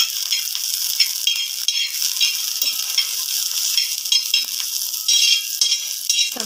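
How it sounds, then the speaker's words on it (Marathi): Onion sizzling steadily in oil over low heat for a spiced brinjal curry, a continuous soft crackle with small pops and the occasional scrape of stirring, close and even throughout. "मी आता त्याच्यामध्ये तेल घालणार आहे व्यवस्थित कांदा आपल्याला भाजण्यासाठी"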